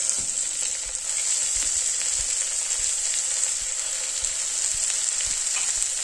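Cluster beans curry frying in a pan after pressure cooking, a loud continuous sizzle with soft low stirring thumps spaced through it, no voices.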